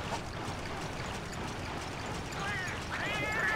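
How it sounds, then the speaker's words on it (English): Thieving Melynx cats in Monster Hunter Tri let out a couple of short, high meows near the end, faint against a steady rushing ambient wash of the game environment. "Damn these thievish cats."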